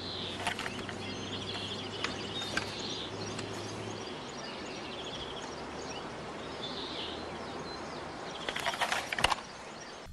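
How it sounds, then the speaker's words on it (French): Birds chirp and twitter in a garden scene from the 2007 film Timecrimes, scattered high calls over a soft outdoor background, with a low hum early on and a burst of clicking and rustling near the end. "Dans cet extrait, les oiseaux chantent"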